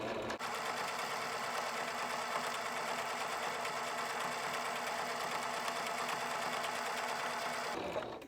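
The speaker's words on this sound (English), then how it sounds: "put the presser foot down, and keep going" A sewing machine stitches rickrack onto quilt blocks in a steady, fast, whirring run for about seven seconds. The motor hums evenly at close range, with no talk over it, then stops abruptly.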